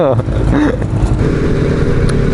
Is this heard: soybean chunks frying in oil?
no